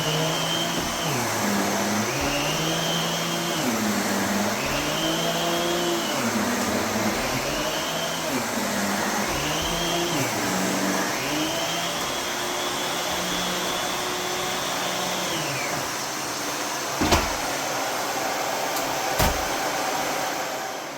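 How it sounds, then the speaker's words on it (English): A Miele vacuum cleaner roars loudly nearby, its motor pitch repeatedly dipping and rising as the beater bar engages, before settling into a steady high whine, with a couple of knocks near the end. "push the button and you'll hear the beater bar engage"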